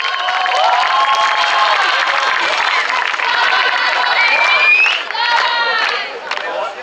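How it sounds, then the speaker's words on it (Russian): A concert crowd at a youth forum cheers and whoops loudly, with many high, excited voices shouting together in a continuous roar. "аплодисменты, они крутые."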